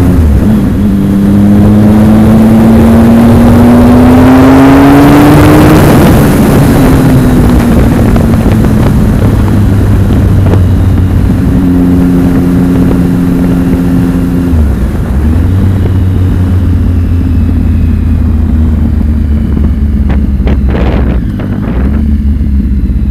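A 2011 Triumph Speed Triple motorcycle accelerating hard from the rider's perspective, the engine rising in pitch through several gears with brief dips at each shift, loud and close, with wind rush and no talk.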